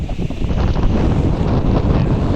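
Strong wind in the Bahamas on a rough sea day roars and buffets the microphone in continuous loud gusts, with no voices, only a constant rumbling rush throughout.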